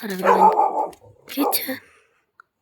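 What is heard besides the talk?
dog barking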